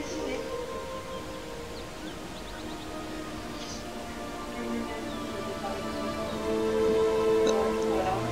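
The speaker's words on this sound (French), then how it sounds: "il pleut, c'est joli là" Soft, steady rainfall patters through a forest in Castlevania Lords of Shadow, a faint drizzle hiss under a low hum and a few distant tones, with no talking.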